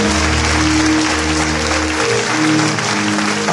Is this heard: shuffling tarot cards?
no